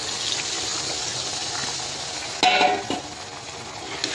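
Ground black pepper mixed with water pours into a pot of simmering chicken curry with potatoes, a brief gushing splash over a steady low sizzle and bubbling, quiet and close.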